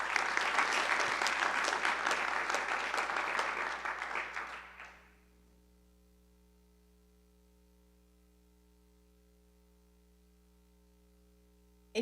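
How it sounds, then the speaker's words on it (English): An audience at a workshop session gives a sustained round of applause that fades out after about five seconds, leaving a low electrical hum in a quiet room. "please give them a round of applause"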